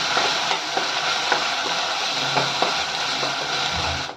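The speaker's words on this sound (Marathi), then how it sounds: "वाटण आपल्याला तेलामध्ये चांगलं परतून घ्यायचं" Ground wet spice paste frying in hot oil with garlic and curry leaves for a fish curry, a loud continuous sizzle with scraping stirs recurring throughout, close up and with no speech.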